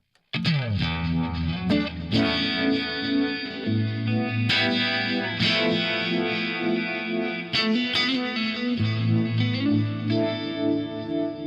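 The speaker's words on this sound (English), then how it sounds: "I use the fast vibe. It is amazing to create the typical univibe sound." Electric guitar run through a Fractal FM9 or Axe-FX III fast vibe effect, giving a swirling, throbbing univibe-style modulation across sustained chords and single notes, loud and continuous without any talking.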